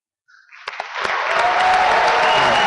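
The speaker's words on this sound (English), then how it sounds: "the most polite round of applause I have ever heard" A commencement audience at a university engineering ceremony breaks into applause, starting from silence with a few scattered claps and swelling quickly into loud, sustained clapping from a large crowd.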